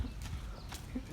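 A horse's hooves clip-clop in a quick, steady rhythm on a rural outing to a fair, a short burst of close hoofbeats over a low rumble.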